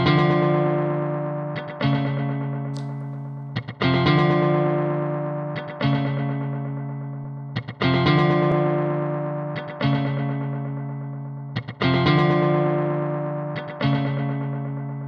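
Electric guitar through Studio One's Analog Delay with the stereo width turned fully up, playing sustained chords that repeat in a steady rhythm, each strike followed by delayed echoes that spread and fade with a slightly distorted, chorused tone.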